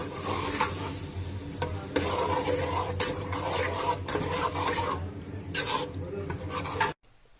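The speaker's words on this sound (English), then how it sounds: "To the fried onions, add 1 kg of minced meat." A kilo of minced meat is added to fried onions in a pot for Hyderabadi keema aloo, giving a loud continuous sizzle with repeated scraping stirs and metal clinks, close by, before cutting off abruptly near the end.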